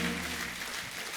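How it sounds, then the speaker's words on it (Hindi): Studio audience on a Hindi comedy show applauds, a brief, fairly soft wash of many hands clapping evenly throughout. "एक बार जॉन, मृणाल और रवि भाई के लिए जोरदार तालियां।"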